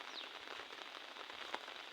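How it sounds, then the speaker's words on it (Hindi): Steady light drizzle patters on a house rooftop during the monsoon, a soft continuous hiss of fine drops with an occasional sharper tick, faint and close, with no talking. "बारिश हो रही है"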